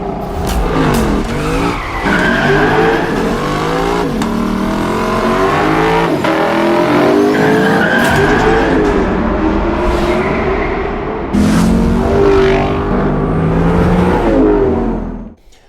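Lexus LC 500 V8 engine downshifting with throttle blips, a loud close roar that repeatedly climbs and drops in pitch over about fifteen seconds with tire noise underneath.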